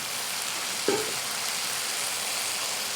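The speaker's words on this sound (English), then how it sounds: "as the onions start to caramelize, okay, also going to add a tablespoon of chopped garlic" Onions and a tablespoon of chopped garlic frying in a pan while cooking Malaysian chicken curry, a steady close sizzle with a brief stirring scrape near the start, no talking.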